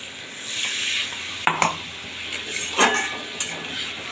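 Spice masala for a Bengali fish curry sizzles in oil in a pan while a spoon stirs it, with a steady frying hiss broken by a few sharp scrapes and clinks of utensil against metal.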